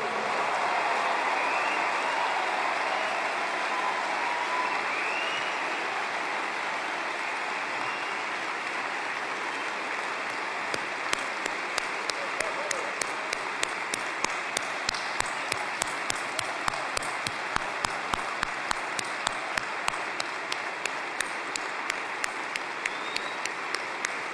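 A 13,000-strong audience at an AIPAC conference hall applauds at length, a broad sustained wash of clapping that grows into rhythmic, evenly spaced claps in the latter half.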